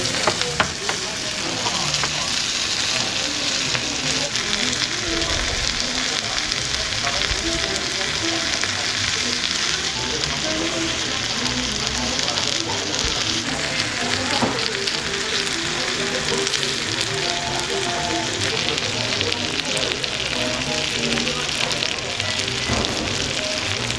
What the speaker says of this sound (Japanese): いろんなお野菜の炒め物です。